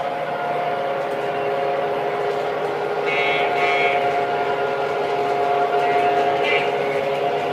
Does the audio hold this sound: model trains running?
yes